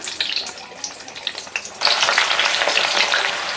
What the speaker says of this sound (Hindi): प्याज को भी हम इसी तरह से फ्राई कर लेंगे